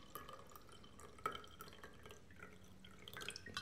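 Water poured into a glass, filling it about two-thirds full before food colouring is added; a quiet trickle with soft dripping splashes runs throughout, with no talking.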